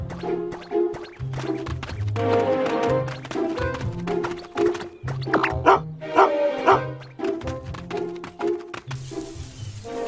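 Kep the sheepdog barks and yips repeatedly in a brisk, playful rhythm, loud and close, over a bright, bouncy musical backing.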